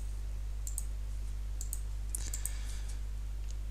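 Mouse clicks sound while patrol points are placed in the S2Engine level editor for an FPS game. The clicks are faint, crisp and close, a few scattered single and double clicks over a steady low electrical hum, with no voices.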